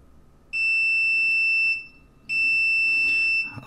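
A multimeter on continuity test while an RF card is repaired gives two loud, steady high-pitched beeps, each over a second long, separated by a brief gap, with faint handling noise beneath.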